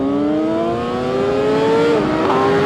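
A stretched and lowered Kawasaki ZX-6R 600cc motorcycle engine revs loud and close, its steady rising whine climbing through a gear before settling into a higher drone.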